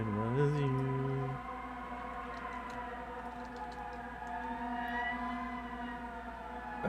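Loud sirens wailing outside, with sustained rising and falling tones that shift pitch partway through and continue steadily, with a voice speaking faintly underneath.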